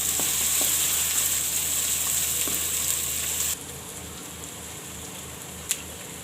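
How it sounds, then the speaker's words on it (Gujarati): Onion frying in a pan toward golden brown, a steady broadband sizzle with a low hum underneath that drops to a softer, quieter sizzle halfway through, with one brief sharp click near the end; no talking. "તો હવે આપણે આ ડુંગળી નાખી દેવું તો ડુંગળીને છે જ આપણે ગોલ્ડન બ્રાઉન જેવી થવા દેવું"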